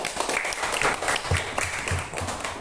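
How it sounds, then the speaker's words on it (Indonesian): Classroom applause for a student, a short burst of clapping from a group of pupils with uneven, scattered claps and a few louder hits. "Kita kasih tepuk tangan untuk Mas Ulum."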